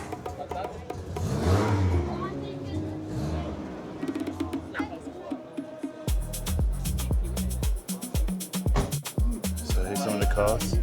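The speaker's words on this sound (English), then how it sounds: "can you hear the cars revving up?" Cars rev their engines at a car show in Coventry, loud roaring bursts rising in the second half over steady crowd chatter and people talking nearby.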